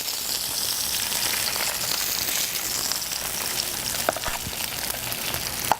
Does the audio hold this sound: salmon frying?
yes